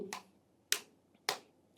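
Fingertip tapping on the ST36 acupressure point on the leg, three sharp, close taps spaced about half a second apart in a quiet room.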